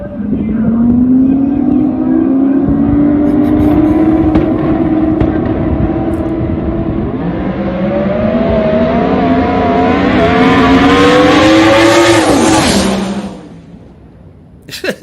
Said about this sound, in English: listen to these cars get down the track.